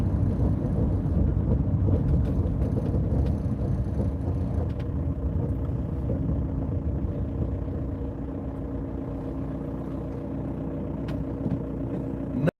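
Inside the cabin of a high-mileage Volkswagen MK4 Jetta on the move, a loud, steady low engine and road drone fills the space, with faint rattles on top.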